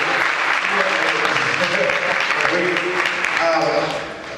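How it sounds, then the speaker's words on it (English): A crowd at a community meeting claps steadily throughout, a dense wash of applause with voices murmuring underneath, tapering off slightly at the end. "folks, come on, big round of applause"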